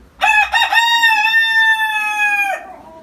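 A rooster from a pure-breed poultry breeding pen crows once, loud and close, a single drawn-out call of about two seconds with a broken start, heard alone.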